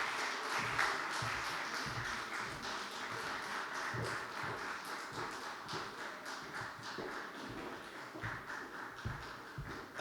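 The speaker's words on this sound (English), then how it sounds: "Another round of applause." An audience at the Nigerian Excellence Night in London applauds an author with sustained, fairly distant clapping that holds steady for the full stretch, with no talk over it.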